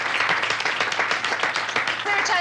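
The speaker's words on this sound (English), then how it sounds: "Another round of applause for these people" A seated audience claps steadily in a dense, fairly loud round of applause that holds for the whole stretch, with a voice faintly mixed in underneath.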